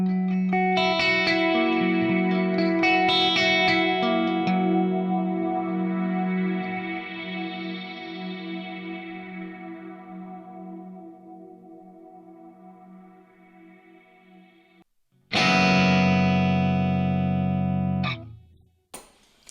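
Electric guitar played through an Axe-Fx III Sirocco-type effect preset, with heavy reverb and delay: chords and picked notes ring out and swell into a long, shimmering decaying wash, then a loud strummed chord cuts in and stops abruptly.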